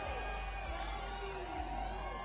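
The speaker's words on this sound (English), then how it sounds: "crowd really getting behind her now" Crowd cheering and shouting steadily for a climber at the 2019 ice climbing world cup lead finals in Denver, a dense continuous roar throughout.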